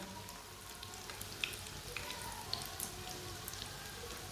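Aloo kababs fry in a little oil in a pan, a steady crackling sizzle with small sharp pops scattered throughout and no talk.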